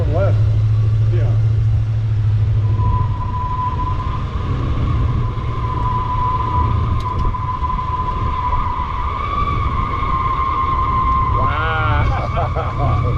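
A 1968 Buick Skylark convertible muscle car, rescued from a field, runs hard at speed with a loud, steady low engine rumble and a sustained whine, while voices talk over it.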